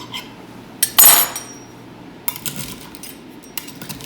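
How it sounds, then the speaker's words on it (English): A knife cuts a pan of baked bread pudding into pieces, giving a few brief, close metallic clinks and scrapes against the dish amid quiet pauses. "So I'm just going to cut this into, I don't know, 9 to 12 pieces here."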